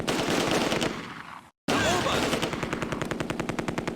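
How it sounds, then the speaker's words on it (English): Machine guns in the war strategy game Close Combat: A Bridge Too Far rattle in long, continuous rapid bursts, loud and dense, with a brief drop to silence before the relentless firing resumes. "Machine guns are going to run out of ammo right proper soon. They've just been firing non-stop."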